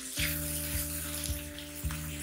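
Mixed vegetables with carrots frying in a pan, a steady close sizzle running throughout with a few brief stirring bumps.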